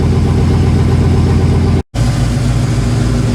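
A 1956 Buick engine fitted with Flowmaster exhaust idles in a steady, even rumble, loud and near. The sound cuts out for a moment partway through, then comes back.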